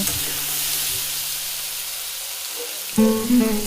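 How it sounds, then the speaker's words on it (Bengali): Salt and ground turmeric stirred and frying in a pan with coconut and hog plum for a sweet-sour chutney: a steady broadband hiss and sizzle throughout. A louder clatter comes near the end. "এবার ভালো মতো নেড়ে চেড়ে এটাকে ভেজে নেব"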